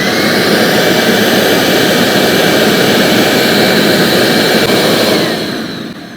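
StealthSonic compact detailing vacuum running close by, a loud steady whooshing roar with a constant motor whine that fades down at the very end as it shuts off.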